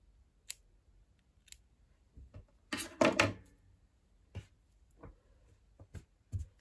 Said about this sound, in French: et on peut couper notre fil.